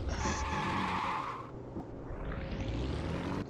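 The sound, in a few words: Porsche rear tires squealing from losing grip, racing video game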